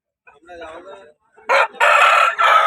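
A fighting rooster of about three kilograms crows loudly and close by in two long bursts, preceded by softer clucking and murmuring.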